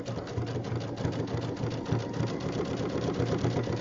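A sewing machine runs steadily in a continuous drone, zigzag stitching the binding of a jelly roll rug made from fabric strips, close and moderately loud with no talking.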